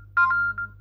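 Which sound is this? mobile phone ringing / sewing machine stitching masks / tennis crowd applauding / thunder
mobile phone ringing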